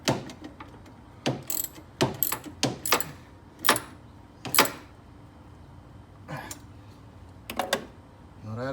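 Ratchet wrench tightening nuts on a windshield wiper motor, a series of close, sharp clicking bursts in irregular strokes separated by short pauses.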